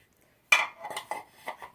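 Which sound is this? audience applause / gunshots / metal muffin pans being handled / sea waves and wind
metal muffin pans being handled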